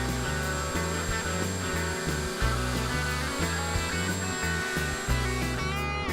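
A CNC router carves a guitar top, its steady high-pitched spindle whine running continuously with a dense, rhythmic pulsing of the bit as it passes back and forth through the wood, loud and close with no talking.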